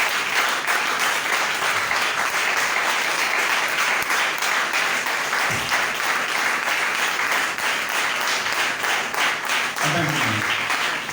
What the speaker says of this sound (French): Que quelqu'un acclame la parole de Dieu.